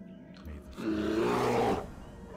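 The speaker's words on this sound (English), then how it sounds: "What was that noise? It sounded like a roar." A creature lets out a deep, rumbling roar in the World of Warcraft Classic game world of Kalimdor, swelling to a loud sustained growl for about a second before fading back under low ambient sound.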